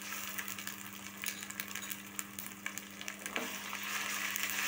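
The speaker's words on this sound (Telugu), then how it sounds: "అల్లం వెల్లుల్లి పేస్ట్ పచ్చివాసన వెళ్ళే వరకు ఫ్రై చేసుకోవాలి." Ginger garlic paste fries with onions in a pan of hot oil while making green chicken, giving a continuous close crackling sizzle with scattered sharp pops and a low steady hum beneath.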